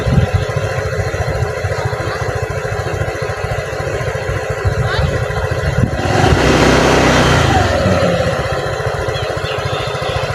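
A motorcycle engine idles close by with a steady low throbbing putter, briefly roughening and swelling midway before settling back to its even idle.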